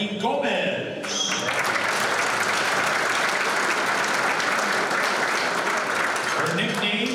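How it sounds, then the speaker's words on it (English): Audience applause at a UTEP Hall of Fame ceremony honoring a 1974 women's volleyball team member, a dense sustained clapping from a large hall crowd, with brief speech from the announcer at the start and end. "Please give a round of applause to the late Barbara Grimby."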